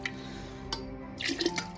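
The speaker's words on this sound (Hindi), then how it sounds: "अब मैं इसमें पानी ऐड कर रही हूँ" Water poured into a cooking pot of arvi gosht curry, a quiet close trickle with a few drips and splashy bursts near the end, no speech.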